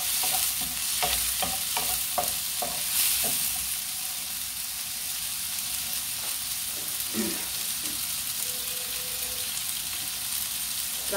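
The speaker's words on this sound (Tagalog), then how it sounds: "Haluin nyo lang ng haluin." Green beans for adobong sitaw are stirred in a sizzling pan, giving steady frying hiss with repeated scraping strokes of the utensil, loud and close, with no talk.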